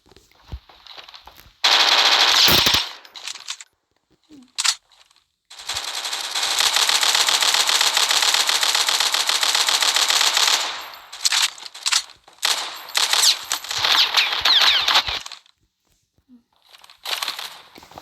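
Automatic machine gun fire in a video game, heard as loud rapid bursts: a short burst, a long sustained stretch of fire, then several choppy bursts separated by brief pauses.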